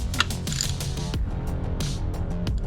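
Hand ratchet clicks in quick bursts while spark plugs are backed out of an engine, close up, with short pauses between strokes and no talking.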